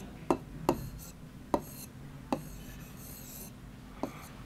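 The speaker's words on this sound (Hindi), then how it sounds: "दूसरा लफ्ज़ ज़राए लिखते हैं" Marker or chalk strokes writing an Urdu word on a board, a handful of short, sharp taps and scratches spaced irregularly over a faint room hiss, fairly close and quiet, with no voice.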